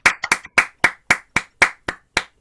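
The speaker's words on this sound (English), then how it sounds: "Can you please unmute and give a brilliant round of applause for Jake Wildman?" An online poetry open-mic audience claps over a call, about ten sharp, close hand claps in a steady, slightly uneven rhythm, with no voices.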